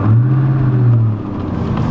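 A Terminator Cobra with a manual clutch pulls out of first gear, its engine droning loud and close with a steady low growl that eases slightly as it shifts.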